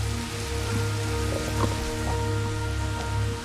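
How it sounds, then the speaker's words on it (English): Steady, even rain falls throughout, mixed with a low ambient hum in the Jurassic World Evolution video game. "you probably also noticed, the rain and all that, I've got light storms on"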